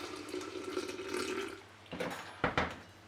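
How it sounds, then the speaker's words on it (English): Water runs from a tap into a jar while a sourdough starter is being fed with flour and water. A soft, steady stream is followed by a few brief louder splashes and pours near the end. "and a little bit of water"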